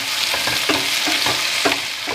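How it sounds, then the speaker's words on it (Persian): Chopped tomatoes frying with onions, turmeric and a little salt for a Persian eggplant and tomato stew, a steady close sizzle broken by a few soft stirring scrapes, with no talking. "پیاز که کمی تفت خورد، گوجه های خرد شده رو داخلش میریزم."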